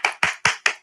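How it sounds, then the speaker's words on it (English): Five slow, evenly spaced hand claps close by at the end of a conference breakout session, a single pair of hands rather than a full audience. "So let's all give you a big applause."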